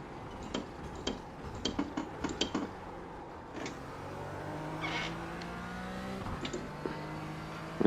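A race car engine in a VR racing simulator at VIR: a scatter of sharp clicks first, then a revving engine tone that rises and holds steadily, heard from the cockpit.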